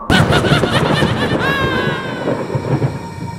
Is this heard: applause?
no